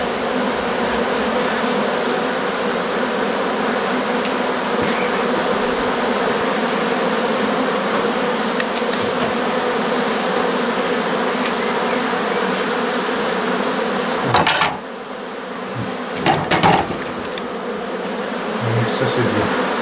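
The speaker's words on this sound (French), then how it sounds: "Les butineuses reviennent avec le pollen." Dense, continuous buzzing of honeybee foragers returning with pollen around a hive, loud and steady throughout, with a brief dip and a couple of knocks near the end.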